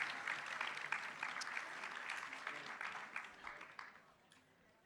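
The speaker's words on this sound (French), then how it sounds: "on peut les applaudir en attendant qu'ils nous rejoignent" An audience applauds speakers as they walk up to the stage at a conference, moderately loud clapping that starts strong and gradually thins and fades away toward the end.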